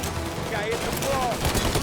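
Rapid gunfire in the video game Mafia: Definitive Edition, a dense, steady rattle of shots across a short stretch of combat, with voices speaking over it.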